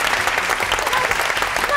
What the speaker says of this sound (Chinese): 哇，掌声鼓励一下